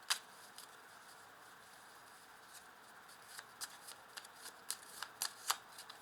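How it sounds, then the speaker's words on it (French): Tarot cards being shuffled and laid out, a soft continuous riffle of card stock with faint close clicks and snaps growing busier toward the end, quiet and without talk. "Alors je vais rajouter des petites cartes dessus."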